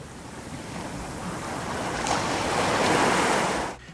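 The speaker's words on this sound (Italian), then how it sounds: "Sentite come l'audio delle onde arriva prima effettivamente di vedere le onde in sé" Ocean surf rushing steadily, swelling louder toward the end before cutting off abruptly, with wind-like hiss and no voices.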